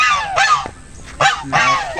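Loud, nasal honks from nearby waterfowl, several calls in quick succession with short pauses between them.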